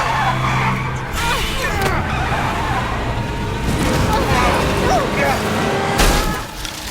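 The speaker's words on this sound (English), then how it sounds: "The car lost control and crashed into a tree." A car skids out of control with tires squealing and scrubbing over a loud engine and road roar, continuous and close throughout. A voice talks over it.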